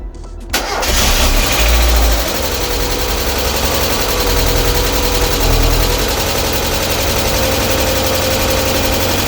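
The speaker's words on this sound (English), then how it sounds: "A little bit ticky perhaps, got the oil going around it, hasn't been started for a long while" A Mazda MX5 Mk1 engine, unstarted for a long time, catches after a brief crank and settles into a loud, steady idle with a slightly ticky note that runs without a break.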